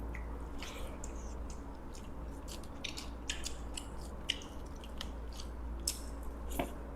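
Someone eating chili chicken with rice makes soft, wet chewing and biting sounds at irregular intervals, close to the mic, over a low steady hum and with no talk.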